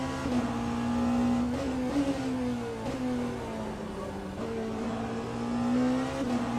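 Porsche GTP prototype race car in the Le Mans Ultimate racing game at Imola, its engine a steady loud drone that rises and dips through gear changes and throttle, with other cars whirring past.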